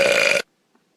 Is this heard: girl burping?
yes